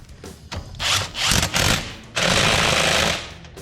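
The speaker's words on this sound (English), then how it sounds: "it helps when you put your ratchet on there if you're actually spinning it in the right direction" A ratchet works loose a brake caliper bolt on a Honda Civic, giving loud, rough bursts of metallic grinding and clicking up close, with one long sustained stretch near the end.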